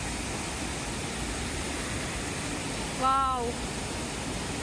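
Sathmahal Ella waterfall in Deniyaya gives a steady, even rush of falling water, and a voice briefly exclaims partway through.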